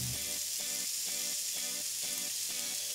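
Flour stirred into fresh spinach sizzling in a pan, a steady broadband frying hiss running throughout with faint repeated stirring scrapes underneath, close and fairly quiet, no voices.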